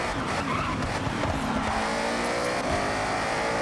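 A Mustang racing in Forza Horizon, its engine droning steadily at high revs with tire squeal and skidding noise, loud and continuous throughout.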